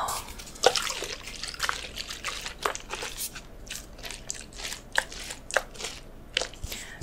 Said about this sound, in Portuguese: Passar uma aguinha termal.